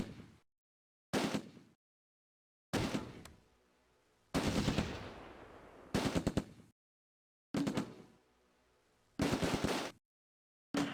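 Heavy gunfire in the World War II strategy game Close Combat: A Bridge Too Far, with German and Allied squads fighting near Groesbeek Heights. Loud bursts of automatic fire come in six or seven sharp volleys, each cut off by silence.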